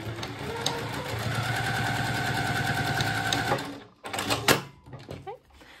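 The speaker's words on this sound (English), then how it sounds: "I will use a 1/4 inch seam allowance to sew these two bindings together" A sewing machine stitches two vinyl binding strips together with a quarter-inch seam and backstitching, giving a steady close mechanical whir for about three and a half seconds before stopping, then brief handling clatter.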